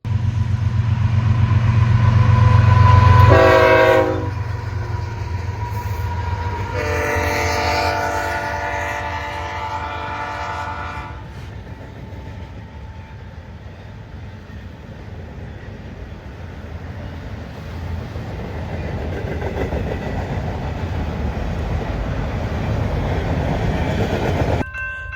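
A train horn blasts loudly in a few long notes as an eastbound freight train led by a KCS ES44AC and a CP AC4400CW rumbles past at Belle Plaine, followed by a long steady roar of rolling cars.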